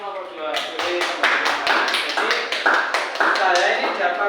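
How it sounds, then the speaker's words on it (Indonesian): Classroom applause, a group of students clapping in a steady run of sharp claps, loud and close, with voices talking over it throughout. "Beri tepuk tangan untuk nomor 2."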